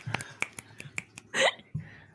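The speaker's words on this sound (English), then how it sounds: "Clapping and snapping." Several sharp finger snaps ring out in quick, uneven succession from people celebrating on a stream, close and crisp, followed by a short breathy burst and one last snap.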